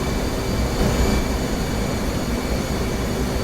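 A fighter jet taxiing on an aircraft carrier deck in DCS, its engine a steady, loud whine and rumble that holds evenly throughout, with no talk over it.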